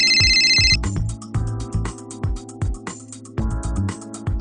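Telephone ringing for a customer courtesy call, a loud electronic ringtone repeating in short warbling bursts with a brief shrill chirp at the start, heard alone and close.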